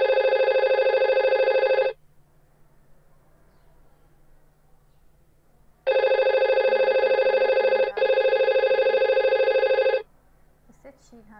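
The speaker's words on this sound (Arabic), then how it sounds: "the phone is ringing." A simulated IP phone in Cisco Packet Tracer rings with a bright electronic tone in two long bursts, the second briefly interrupted, separated by a quiet gap of several seconds.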